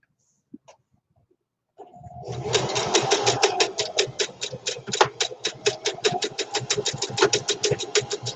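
A sewing machine running a zigzag stitch on a face mask made from an old T-shirt starts after a brief pause, then chatters in a fast, steady needle rhythm, close and clear, with no talking.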